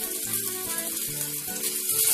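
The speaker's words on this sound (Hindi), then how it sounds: "अभी इनको हम शैलो फ्राई करेंगे और शैलो फ्राई करने के लिए थोड़ा सा ऑयल इसमें डाला हुआ है" Taro (arbi) sticks shallow frying in a little oil, giving a steady close sizzle with soft crackle and faint clinks throughout, no voices.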